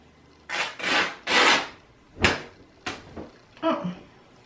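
Cotton fabric torn into strips by hand along a hemline, giving several sharp ripping bursts of varying length, loud and close, with short pauses between tears and no talking.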